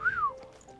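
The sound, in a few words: person imitating a wolf whistle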